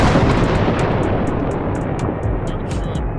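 An anti-tank rocket fired in Arma 3 roars and booms loud and close, a broad rumbling blast that stays heavy and sustained with scattered sharp crackles on top.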